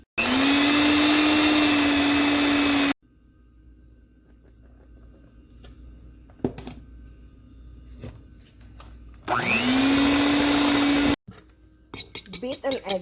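An electric mixer beats cookie dough at high speed in two loud, steady bursts of whirring, separated by quieter stretches of clinking bowl and utensil sounds, with light kitchen noise at the end.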